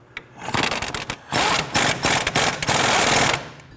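A buzzing, rattling power tool runs in close, loud bursts of a second or two while tightening the sway bar link nuts on a 2006-2013 Chevrolet Impala during a rear strut replacement.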